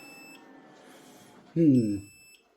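A solar inverter sounds a fault alarm, a thin high electronic beep holding steady in short stretches, while a person speaks briefly and loudly partway through.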